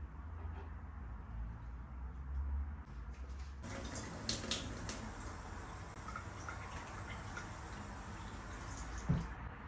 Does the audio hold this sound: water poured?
yes